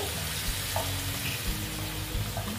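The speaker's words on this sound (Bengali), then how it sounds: "আমি কিন্তু গরম জল দিচ্ছি, ঠান্ডা জল দিচ্ছি না।" Hot water pours into a pan of frying fish and potatoes, a steady close rushing hiss and sizzle that holds without pause.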